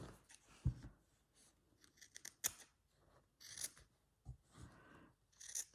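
Scissors snipping through fabric from an old blouse during slow-stitch handwork, a series of soft, close crisp cuts with short pauses between them, quiet and without talk.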